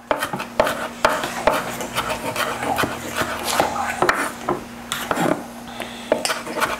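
A knife chops Brussels sprouts on a wooden board in quick, irregular taps, mixed with scraping and light clattering nearby.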